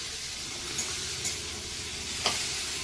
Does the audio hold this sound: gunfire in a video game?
no